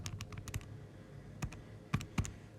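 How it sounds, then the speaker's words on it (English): Calculator keypad presses while working a statistics problem: a few soft, scattered clicks, close but faint, with no talk. "I'm typing this in on my calculator."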